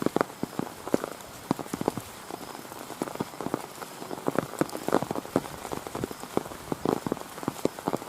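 Monsoon rain falls on a village beside an old Shiva temple and a pond, a dense, steady patter of drops on surfaces with sharper nearby splats, no voices.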